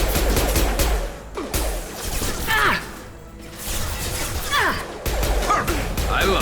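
Rifle fire in the sci-fi shooter Mass Effect 2 crackles in loud, rapid bursts amid crashes and mechanical clatter, with brief lulls between volleys and voices speaking over the fight.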